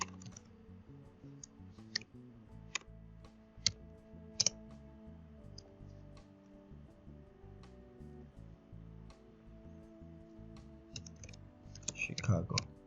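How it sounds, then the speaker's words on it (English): Someone types on a computer keyboard with quiet, irregular key clicks scattered over a low background hum. A few sharper taps stand out, and a denser flurry of keystrokes comes near the end. "So I type America or United States of America"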